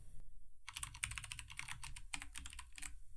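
Quick clicking keystrokes on a computer keyboard as a brand name is typed into a graphic design app, a close burst of a dozen or so light taps in an uneven rhythm, with no talking.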